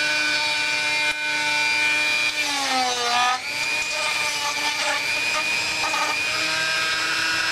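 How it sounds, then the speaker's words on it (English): A high-pitched Dremel rotary tool whines steadily while trimming a motorcycle fairing edge, its pitch dipping briefly as it bites in, then holding a continuous buzzing drone. "there's some overage on this that I need to just trim off with a Dremel tool"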